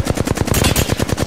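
Rapid automatic weapon fire in Apex Legends, a loud, close, continuous stream of about a dozen evenly spaced shots with no pauses or talk.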